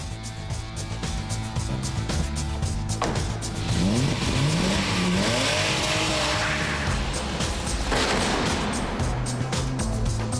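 A car revs hard and accelerates while a magnet holds it in place, the engine climbing in pitch and staying loud and close with tire noise and steady roaring throughout.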